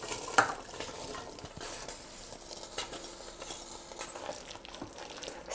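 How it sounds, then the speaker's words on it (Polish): Rowanberry and apple jam stirred in a pot as it simmers, a soft steady scraping of a spoon against the pot with faint bubbling, quiet and close, with no voices. "Staramy się dość często mieszać i gotujemy jeszcze do czasu, aż jabłka się rozpadną."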